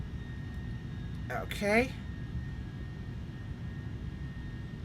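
Airbus airliner jet engines drone steadily on a throttled-back approach to a runway in Microsoft Flight Simulator, a continuous hum with faint tonal whines, while someone briefly speaks over it.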